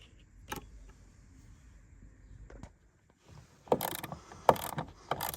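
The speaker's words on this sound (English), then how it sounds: "I've swapped to my little quarter ratchet because it's a lot easier to get in" A quarter-inch ratchet is turned while removing a dash speaker in a Chevy Astro, with a quiet stretch first and then bursts of rapid clicking ratchet strokes up close.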